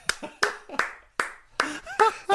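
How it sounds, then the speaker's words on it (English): A few sharp hand claps ring out in a loose rhythm, close and fairly loud, mixed with a voice during a casual podcast chat. "Applause that man. Applause."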